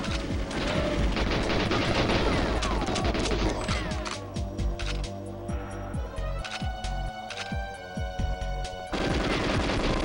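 Gunfire from the N64 video game GoldenEye 007, with dense rapid automatic bursts and crashing impacts that go on almost without a break, loud and alone without talk.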